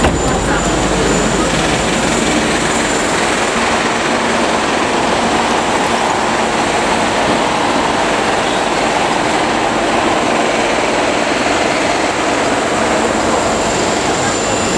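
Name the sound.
train in Kuala Lumpur rail station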